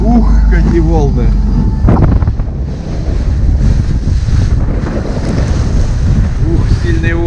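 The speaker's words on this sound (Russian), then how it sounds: "Ух, сильные волны, да, хорошо" Strong wind buffets the microphone while storm waves rush and slap around a moving Allyur 40-2K motorboat on a river, loud and continuous, with a voice speaking briefly at the start.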